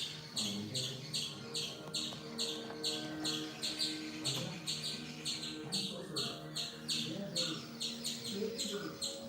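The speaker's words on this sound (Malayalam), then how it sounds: "ഇല്ല ആ കിളിയുടെ കരച്ചിൽ കിട്ടും" Repeated bird calls with bright, pulsing chirps sounding over a steady background hum, moderately loud and continuous throughout.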